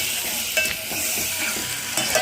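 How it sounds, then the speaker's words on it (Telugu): Curry tempering frying: oil sizzles and crackles steadily in a pan while a spoon stirs and scrapes now and then, close up, with no voices. "బావ కర్రీ తాలింపు చేసేది"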